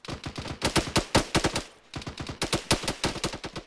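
Rapid automatic gunfire in the military video game Arma 3, loud close bursts of sharp repeated shots with a short pause before firing resumes, no talk over it.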